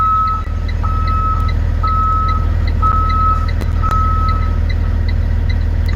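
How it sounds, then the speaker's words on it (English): Repeating reversing beeps from a school bus in the Rigs of Rods driving game, a steady series of loud evenly spaced tones over a constant low engine rumble. "Now we just gotta throw on our reverse real quick to make sure the lights work"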